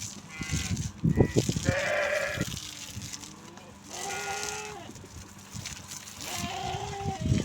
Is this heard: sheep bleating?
yes